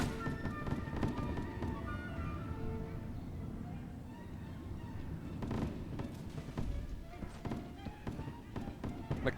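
Scattered musket volleys crackle across a Mount & Blade Warband battlefield, the Polish Legion firing at will in irregular bursts of sharp pops layered over dense battle din and distant shouting.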